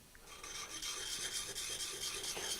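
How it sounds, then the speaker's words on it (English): A carving tool with a slight hollow grind being ground on a coarse sharpening stone, giving a steady close gritty rasp with small swirling pulses, faint and continuous, with no talking. "And then I'm going to check it and see where I'm grinding."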